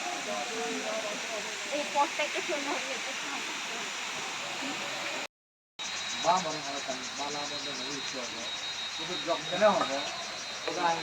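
Shuvolong waterfall in Rangamati, visited by small boat in the rain, makes a steady broad rushing roar with people talking over it, broken by a brief silent gap midway.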